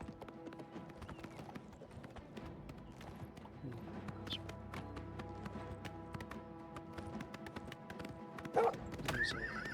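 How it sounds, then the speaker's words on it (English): A horse clip-clops along a road in the Oblivion Remastered video game, with a clear rhythmic run of hoofbeats and a neigh near the end, close and alone. "Be good, horse, be good."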